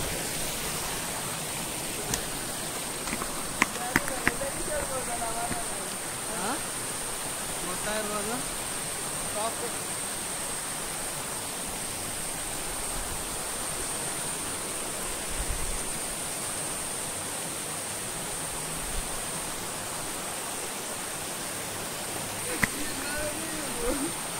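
Donne waterfall in Ankola with low water flow, a steady broadband rush of falling water continuing throughout, with faint voices of people nearby in places.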